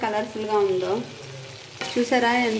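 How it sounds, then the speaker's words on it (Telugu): Konaseema-style prawn fry sizzling in a pan over a medium flame, with a spoon scraping and stirring through it in two close, clear strokes over a steady frying hiss. "ఇలా కలిపేసి కొద్దిగా మీడియం ఫ్లేమ్లో పెట్టి అయిపోయిందండి మనకి రొయ్యల ఫ్రై"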